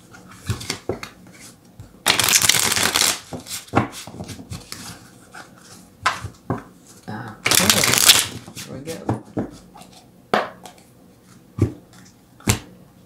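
A deck of tarot cards is shuffled in two loud riffling bursts, with taps and handling clicks between them. Someone talks intermittently.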